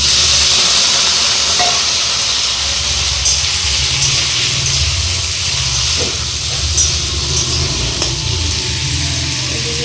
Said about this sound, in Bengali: তেল গরম হয়ে গেছে, এবার আলুটা দিয়ে দেবো